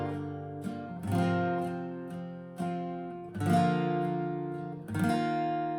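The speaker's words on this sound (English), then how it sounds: "I'm just kind of letting the pick just kind of flow on these strings." An acoustic guitar strummed softly with a pick in light, flowing strokes, chords ringing out and decaying between a few gentle strums, close and unaccompanied, no voices.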